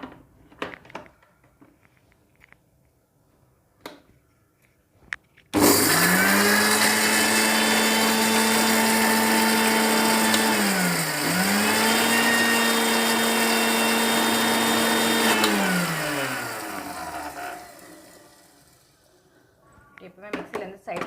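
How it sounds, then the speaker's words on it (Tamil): An electric mixer grinder whirs loudly, grinding dry red chillies for about twelve seconds with a steady high motor whine that dips briefly in pitch midway, after a few soft kitchen clicks and before it winds down to quiet. "இப்போது மிக்சியில் எடுத்துடலாம்."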